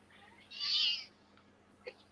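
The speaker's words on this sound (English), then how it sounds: "it was a kitten" A kitten gives one clear, fairly loud high-pitched meow, followed by a short faint squeak, in a quiet indoor room.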